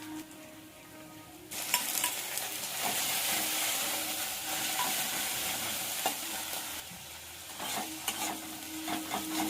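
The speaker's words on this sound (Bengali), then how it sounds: "এটা পেঁয়াজের রসুনের সঙ্গে একটু ভাজা ভাজা করে নেবো।" Fish oil fries with garlic and onion in a pan, a loud steady sizzle that bursts in as it hits the hot oil, with occasional stirring scrapes and no talk.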